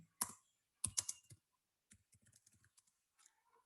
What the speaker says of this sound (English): So I'm going to type this.